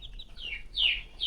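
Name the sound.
hens clucking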